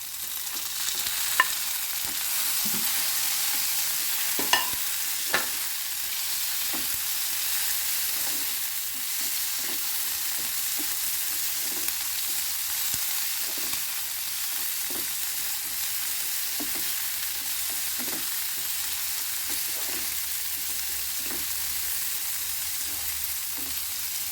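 Tomatoes sauté in a pan with softened onions for onion chammanthi, giving a continuous, even sizzle. Occasional light clicks from stirring come through over about twenty-four seconds, with no one speaking.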